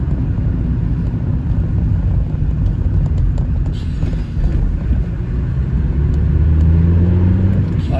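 A modified 1.6-litre Mazda MX-5 engine running on E85 ethanol drones loudly with deep low rumble, building in pitch toward the end as it accelerates, with wind noise over the microphone.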